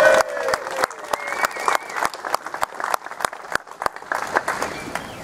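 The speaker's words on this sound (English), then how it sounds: "one more round of applause if you could please for Peter Richardson." Outdoor crowd applause at a water protest in a square, sparse sharp claps and scattered cheering with voices murmuring underneath.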